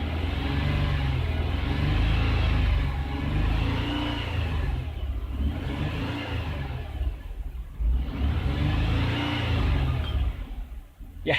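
The engine of a 2003 Jaguar X-Type with a backfire and misfire problem revs repeatedly, a loud close rumble that swells and eases in several cycles with no talking over it.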